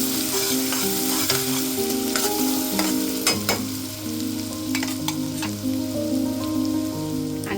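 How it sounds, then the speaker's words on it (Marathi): Coarse green chili and garlic paste sautés in hot oil over cumin tempering, a bright continuous sizzle with sharp spatters and stirring clicks, heard up close without talk. "हिरवी मिरची आणि लसणाचं आबडधोबड जे वाटण आहे जाडसर, ते तेलामध्ये परतून घ्यायचं"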